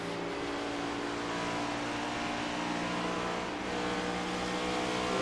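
Stock race car engines droning steadily at Homestead-Miami Speedway in iRacing, a loud continuous high-revving whine from nearby with faint rises and falls in pitch.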